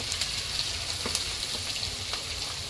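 Ginger and hot green chillies fry in a pan for manchurian, a steady close crackling sizzle with faint stirring taps throughout and no talk.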